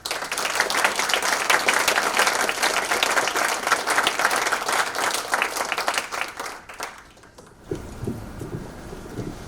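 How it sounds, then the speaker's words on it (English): Audience applause for Hibakusha atomic bomb survivors visiting Zeebrugge with the Peace Boat, loud sustained clapping from a large crowd that dies away near the end before a voice starts speaking. "Give them a big round of applause"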